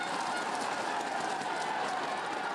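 A roadside crowd roars and cheers a rider home at a Tour de France time trial finish, a dense continuous wall of noise at close range with no breaks.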